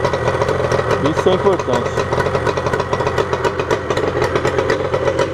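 A Yamaha RD 350 two-stroke motorcycle with original exhaust and a Sarachu tip idles loudly and close by with a steady, crackling throb, while someone speaks over it.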